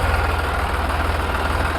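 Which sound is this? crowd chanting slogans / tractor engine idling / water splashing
tractor engine idling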